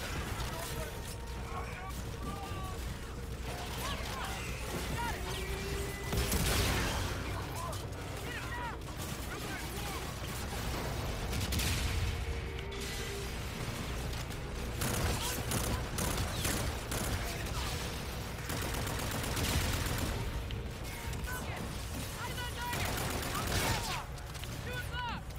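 Call of Duty Infinite Warfare gunfire, irregular volleys and bursts with loud impacts at intervals, heard amid a busy battle soundscape with talk at times.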